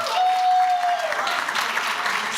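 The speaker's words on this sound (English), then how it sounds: "just give him a round of applause" Applause from a conference audience, steady and fairly loud for a couple of seconds, with a brief tonal whistle or feedback line early on.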